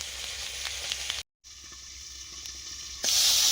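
Nigella seeds crackle and hiss in hot oil as the cooking of a boal fish curry begins, a close, fairly soft sizzle broken by a brief silent gap and then swelling louder toward the end.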